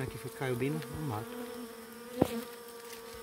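Bees swarm around a hand during a honey harvest and rescue, a close, droning buzz that wavers in pitch while someone speaks over it.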